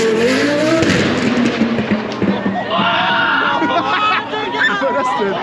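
A turbocharged 1000 hp car revs hard at full throttle at a classic car gathering in Frankfurt, its loud engine roar layered under crowd chatter and voices.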